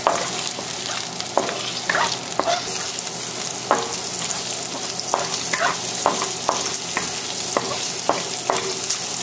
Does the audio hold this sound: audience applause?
no